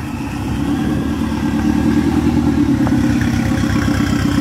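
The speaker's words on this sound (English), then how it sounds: "this noise is an EJ205 turbo" A Subaru EJ205 turbo engine in a lightweight custom buggy runs steadily at idle, a loud, close, continuous rumble with a pulsing low throb and no talk.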